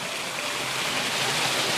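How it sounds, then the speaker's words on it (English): A big mountain waterfall beside a hiking trail roars as a steady, close, full-bodied rush of falling water with no pauses and no voices. "there's a great big waterfall right here, but I'm on the wrong side of it."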